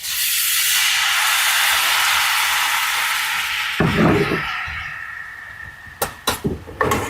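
Marsala wine poured into a hot pan with pork tenderloin medallions hisses in a loud, steady sizzle that slowly fades, then a few knocks and clanks of a utensil against the pan.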